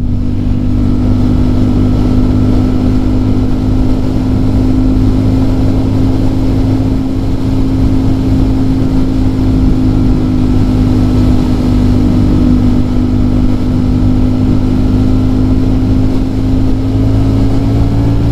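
A Ducati Streetfighter V4S motorcycle pulls hard from around 70 mph, its engine a loud, steady drone with a rising tone under constant wind roar for the whole stretch.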